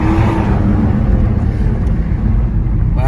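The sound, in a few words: car engine accelerating, full throttle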